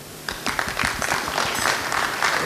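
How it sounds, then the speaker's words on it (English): An audience at an awards ceremony claps continuously in dense, steady applause throughout the short stretch, with no voices standing out. "let's start with a round of applause"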